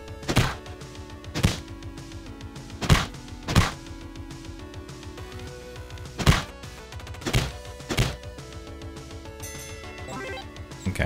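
Punches and kicks from Punch Club 2 land as sharp, separate thuds, about ten hits spaced irregularly over a soft game background, no talking.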